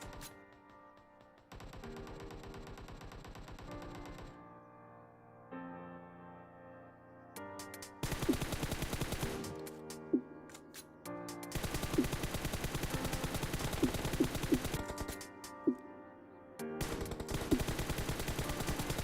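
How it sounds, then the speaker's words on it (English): M416 assault rifle firing sustained automatic bursts in PUBG Mobile, rapid rhythmic cracks broken by short pauses, with game music and interface sounds underneath and no talking. "Here I am not controlling recoil, and this is the recoil of M416."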